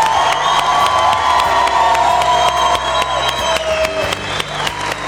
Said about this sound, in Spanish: Aplauso para todos ellos y para todos ustedes.